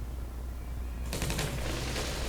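Artillery card firing in KARDS, a World War II card video game: after a second of quiet, a sudden loud burst of rattling gunfire sets in and keeps crackling to the end, with no voices.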